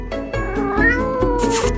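A kitten meows repeatedly and loudly, several drawn-out cries in quick succession, close up, ending in a harsher, noisier wail.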